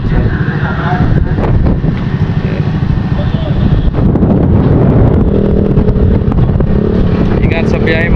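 Strong wind blows across a boat out at sea amid big waves, a constant loud roar of buffeting wind noise on the microphone with engine rumble underneath.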